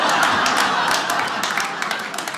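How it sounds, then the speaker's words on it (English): A comedy club audience claps for twins in the crowd, giving dense, steady applause and a few whoops that thin out slightly toward the end. "Applaud if you're a twin here."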